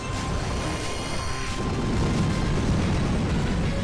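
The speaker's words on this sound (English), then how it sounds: "Oh, to use Explosion." Explosion move in a Pokémon battle video game, a loud sustained blast of roaring, crackling noise that swells and holds for several seconds.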